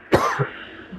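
A man gives one sharp, close cough followed by a brief throaty rasp, loud and alone over faint background noise.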